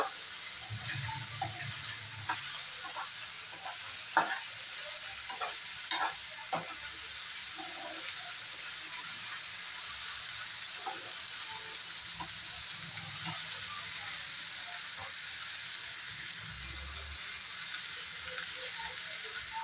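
Bhindi with onion and tomato frying quietly in a pan, a soft low sizzle broken by occasional spatula scrapes and stirring clicks, fairly faint and steady, with no one talking.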